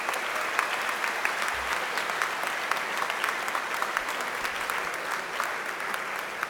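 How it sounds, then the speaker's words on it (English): Applause fills the room at a student reception for sponsors and judges, dense continuous clapping from a sizable audience at even loudness, with a few sharper individual claps standing out. "So please give a round of applause to our sponsors and their judges."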